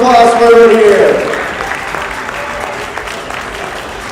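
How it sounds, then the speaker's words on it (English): Crowd applause at a Western Iowa League robotics tournament, a loud burst of clapping that fades after the first second into steady lighter applause, with a voice over it at the start. "Give us a loud round of applause for everyone here."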